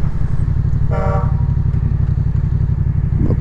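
A car horn sounds once, a short toot about a second in, over loud steady engine rumble from a nearby vehicle on a roadside bend.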